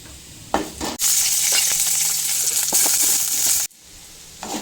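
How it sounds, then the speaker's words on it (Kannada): Chili peppers frying in a pan, a loud, steady sizzle that cuts in abruptly and stops just as suddenly, with faint stirring noises around it. "ಇನ್ನೂ ಒಂದು ಬೇರೆ ಬೊಗಣಿ ಒಳಗೆ ಮೆಣಸಿನ್ಕಾಯಿ ಫ್ರೈ ಮಾಡ್ಕೊಡೋಣ"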